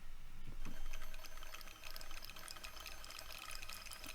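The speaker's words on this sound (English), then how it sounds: "I use some other sounds that you might not expect, such as rain" A steady hiss of rain pours down with a scattering of fine droplets and drips, dense and continuous, layered softly with no voices.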